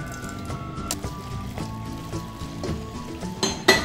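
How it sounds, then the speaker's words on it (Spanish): Boiling water is poured into a frying pan around a flan made with Maria cookies, cooked without an oven, giving a steady close sizzle and liquid pouring throughout with a louder splash near the end. "Entonces vamos a ponerle agua hirviendo al sartén"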